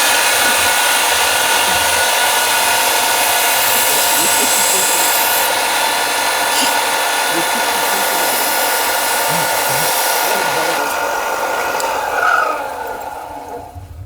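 Handheld power tool grinding burrs off a fingerboard (miniature skateboard) deck in a workshop, a steady loud high-pitched whir running continuously for about twelve seconds before tapering off.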